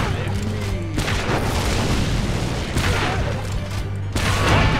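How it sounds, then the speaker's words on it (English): Grenades launched and exploding in the Orcs Must Die 2 video game, a dense barrage of booming blasts and crackling bursts layered over a continuous loud battle din, with a voice faintly mixed underneath. "Let's launch a few grenades."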